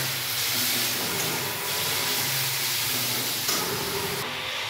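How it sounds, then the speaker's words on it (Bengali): Food frying in a pan with salt and turmeric, a loud, steady, hissing sizzle that fills the whole stretch with a few faint tonal hums underneath and no speech. "ভাজা হচ্ছে, লবণ দিয়ে দিয়েছি,"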